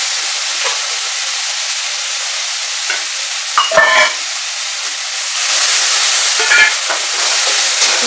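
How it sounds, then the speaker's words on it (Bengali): Spice mix frying with already-fried onions in a pan: a steady close sizzle and hiss with brief stirring scrapes, growing louder and fuller in the second half, with no talking. "মশলাটা অল্প হালকা করে ভেজে নিই।"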